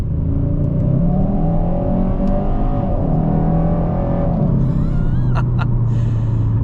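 A 2025 Kia K5 GT with manual gearbox accelerating hard in second gear, the engine note climbing steadily in pitch and loudness from inside the cabin, then easing off near the end with a brief gasp-like breath.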